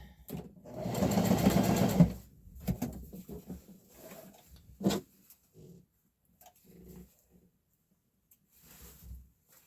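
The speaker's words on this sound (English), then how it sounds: "Sew that closed." A sewing machine stitches a blouse sleeve closed in a loud burst of about a second, then a few shorter, quieter runs of stitching follow with pauses in between.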